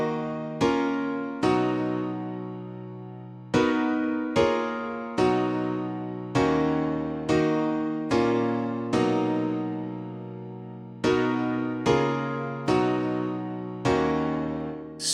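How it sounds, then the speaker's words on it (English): Korg M1 plugin synthesizer playing a sequence of sustained chords, each struck sharply and slowly decaying before the next, steady and clear with no voices. "that sound is actually from the Korg M1"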